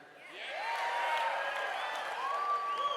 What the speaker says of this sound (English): Please give another round of applause for Reg and Andreas.